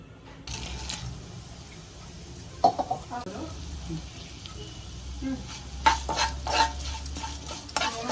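Spices sizzle and crackle in hot oil, with sharp pops and a stirring scrape breaking through a steady frying hiss.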